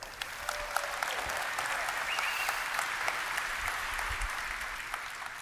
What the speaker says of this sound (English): You guys deserve a hand of applause.